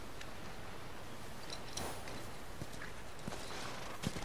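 Hooves of a horse clip-clop in The Last of Us video game, a quiet, steady walking rhythm of light distinct knocks with faint background ambience.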